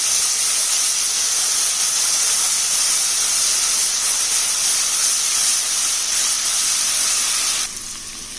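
Garlic-ginger paste sizzles loudly and steadily in hot oil for a chicken korma, a dense continuous hiss that drops suddenly near the end.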